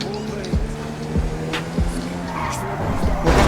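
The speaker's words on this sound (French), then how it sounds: "on tape un petit drift, voilà, hein, comme à Tokyo" A car drifts in GTA 5, its engine droning with tire squeal and skidding swells across a few seconds, while someone talks over it.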